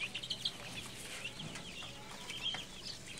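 Barred Plymouth Rock chicks in a farm store peep and chirp faintly in a high, scattered chorus over low background noise.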